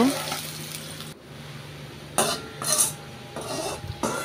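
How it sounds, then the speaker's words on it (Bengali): Sliced onions fry in oil in a pan for birista, with a steady sizzle broken by several scraping stirs of a spatula at close range. "এখানে আমি 1 কাপ পেঁয়াজ এটাকে বেরেস্তা করে উঠিয়ে নেব"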